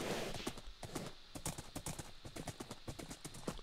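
A horse galloping in a video game, its hooves beating a quick, rhythmic clip-clop close by and fairly faint, heard without any talk.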